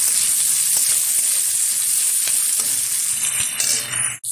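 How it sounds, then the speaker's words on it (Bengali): Chopped onion frying in oil in a pan for an okra fry dish, a steady loud sizzle with stirring scrapes throughout, easing slightly near the end. "পেঁয়াজটা ভালোভাবে ভেজে নেব তেলের সাথে।"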